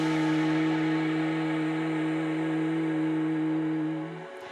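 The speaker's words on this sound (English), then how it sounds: "Like a bee, you'll hum your way out as you exhale." A person hums steadily through the nose on a long exhale in bee breath pranayama, a soft continuous buzzing tone that fades out near the end, close and alone.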